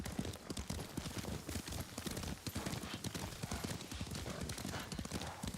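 A horse gallops in the video game Ghost of Tsushima, with rapid, continuous clip-clop hoofbeats close up and steady throughout, and a faint neigh mixed in.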